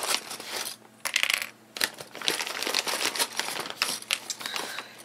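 Small metal clips picked up and handled while sewing a homemade fabric face mask, a busy run of close, light metallic clicks and rattles with brief pauses and no talk.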